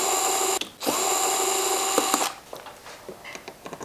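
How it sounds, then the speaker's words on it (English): Phillips head screws on a Honda Navi are loosened with a magnetic-tip screwdriver, a sharp whirring tool noise followed by small clicks and taps close up. "Nice to have a screwdriver with a magnetic tip."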